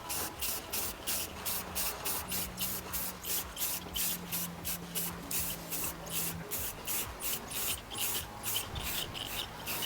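Clear coat is sprayed onto the roof rail moulding of a BMW E46 M3 in short, regular hissing bursts, dozens in quick rhythmic succession over a faint low hum, fairly quiet and close.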